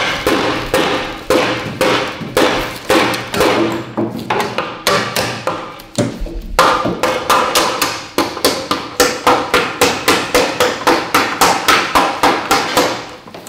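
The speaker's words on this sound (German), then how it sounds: "Ich befürchte, ich hole mal einen größeren Hammer." Heavy blows from a large hammer strike metal on a Lambretta 150 LI scooter over and over, loud and close, in a steady rhythm of about two to three hits per second with a short pause midway.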